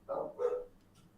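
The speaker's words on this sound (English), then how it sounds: "It's the dogs barking, somebody's at the door." Dogs bark twice at someone at the door, short muffled woofs, slightly distant indoors, followed by a faint trailing yip.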